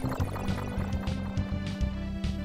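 Flowing water in the video game Super Castlevania IV, a steady watery wash with rhythmic pulsing low game sounds layered over it, fairly loud and continuous with no talk.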